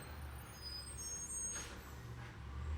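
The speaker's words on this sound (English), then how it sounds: "Pardon that garbage truck going by." A garbage truck passes outside at a distance, a faint low engine rumble with a short airy hiss midway and the drone rising slightly toward the end.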